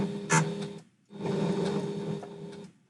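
A domestic sewing machine running a zigzag stitch in two bursts, a short one and then a longer steady run of rapid mechanical whirring and needle chatter, close and loud, with a brief pause between.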